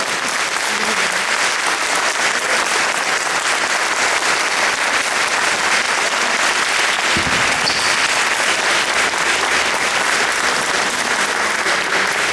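Loud, sustained audience applause fills the room at a tango competition final results ceremony in Córdoba, dense and steady throughout with a brief low thump near the middle.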